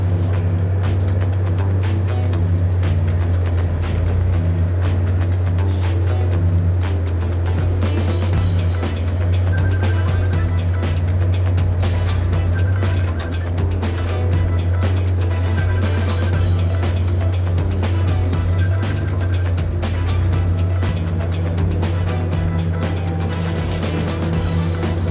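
A mining loader in a phosphate mine works heavy and close, its engine drone constant and loud as it loads rock into 100-ton trucks, with scattered clanks and bursts of rumbling throughout.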